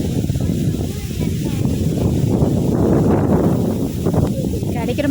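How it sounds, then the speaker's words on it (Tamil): Strong gusting wind buffets the microphone at a fishing pond, a steady broadband roar rushing loud and close throughout. "அந்த அளவுக்கு காற்று வீசுது"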